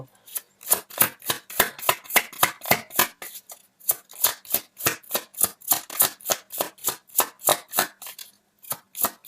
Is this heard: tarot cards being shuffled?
yes